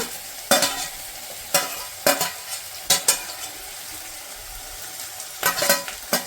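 Curry leaves, green chillies and crushed garlic hit hot oil with browning onions for a potato palya, a steady close sizzle broken by several sharp spatula stirs scraping the pan.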